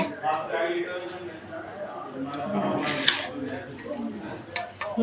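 Salted potatoes being mixed by hand in a pot, soft scraping and stirring with occasional metallic clinks of utensils, under someone talking throughout.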